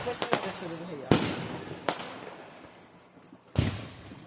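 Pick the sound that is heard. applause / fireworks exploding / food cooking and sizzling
fireworks exploding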